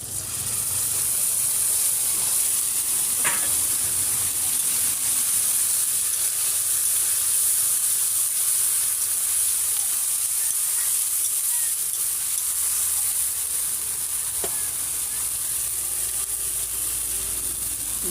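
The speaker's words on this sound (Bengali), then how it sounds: "পেঁয়াজ, আদা, রসুন পেস্ট আমি দিয়ে দিচ্ছি" Onion, ginger and garlic paste sizzling in a hot pan in a small hotel kitchen, a loud continuous hiss with a few brief stirring scrapes, close and alone.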